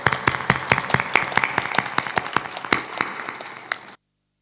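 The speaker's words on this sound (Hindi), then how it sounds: "ताली बजा दो" A congregation at a spiritual gathering with Sant Asang Dev Ji Maharaj in Sailana claps hands in a steady rhythmic beat, sharp repeated claps for about four seconds before stopping abruptly.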